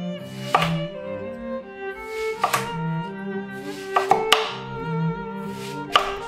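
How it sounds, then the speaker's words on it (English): A knife chops down through watermelon to cut it into slices, giving a series of sharp, crisp strikes at irregular intervals, close and fairly loud, with a ringing ring of board impact after each cut. "Now run your knife straight up and down to cut the melon into slices."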